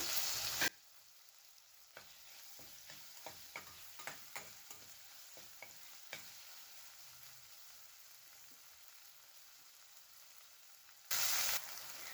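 Chopped tomatoes sizzle in a pan with a steady frying hiss, broken by a series of sharp clicks and scrapes from stirring.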